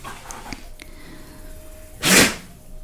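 A single sharp, loud sneeze bursts out near the end after a few faint clicks and taps in a quiet room.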